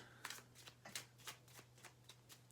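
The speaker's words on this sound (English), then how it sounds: "we're hand over hand shuffling" Tarot cards shuffled hand over hand without a table, a quiet run of soft papery riffles and slaps in an uneven rhythm, heard close and alone.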